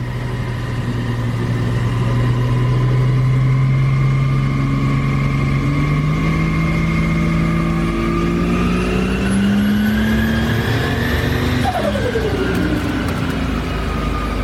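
A Ford Barra engine pulls hard in third gear, its loud droning note rising steadily in pitch under load before easing off near the end, with constant road and wind noise.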